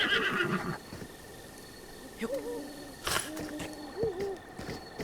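Horse in Zelda: Breath of the Wild neighing several times, with short, quick whinnies spread across a few seconds over faint background sound and no talking.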